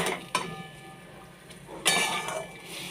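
Fish curry with added water is stirred in a pot, giving clinking scrapes of a spoon against metal, a couple of sharper knocks among softer rattles, no voices.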